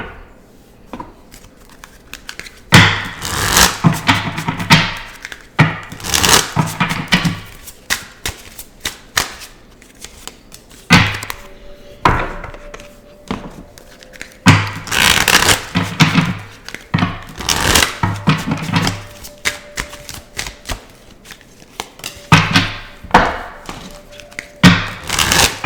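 Oracle cards being handled from a deck with one drawn, heard as bursts of close shuffling, riffling and soft thumps and taps separated by quieter pauses, with no talking.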